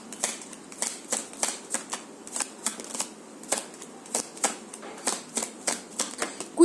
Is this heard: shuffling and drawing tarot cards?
yes